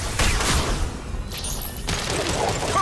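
A weapon firing in its alternate fire mode during Mass Effect gameplay, a loud continuous barrage of dense gunfire blasts and booms that runs throughout with a brief tonal pause in the middle.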